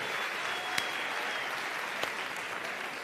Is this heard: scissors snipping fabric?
no